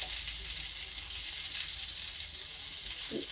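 Mixed vegetables sizzle steadily in a hot pan with dried chili, a bright continuous hiss close by and a brief stirring scrape near the end, with no voices.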